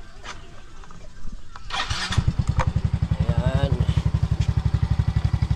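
A motorcycle engine starts after a few clicks and then idles with a steady, loud, even chug, warming up close by while someone speaks briefly over it.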